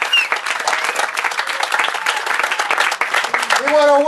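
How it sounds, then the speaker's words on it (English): Sustained audience applause at an outdoor rock festival in Ravenna, Ohio, a dense, loud wash of clapping from a crowd, with a voice rising briefly near the end. "You should give a big round of applause."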